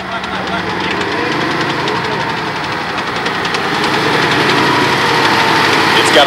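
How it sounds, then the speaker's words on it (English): Twin Cadillac V8 flathead engines of a WWII US Army half-track run steadily nearby with a knocking mechanical rumble at a museum reenactment, building slightly in loudness, with talk over it. "It's got twin Cadillac V8 flathead engines powering each side, one for each side of tracks"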